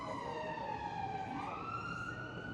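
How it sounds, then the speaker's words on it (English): An emergency vehicle siren wails on a London street, its pitch sliding and rising in a steady tone, heard at a moderate distance over traffic rumble. "That's all you ever hear is horns going or sirens in the background."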